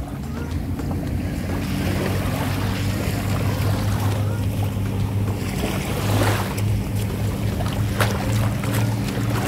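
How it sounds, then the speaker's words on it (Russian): Red Sea waves wash onto a sandy beach at Naama Bay in Sharm el-Sheikh, a steady roar of surf mixed with wind rumble on the microphone. "Итак, давайте посмотрим морешко"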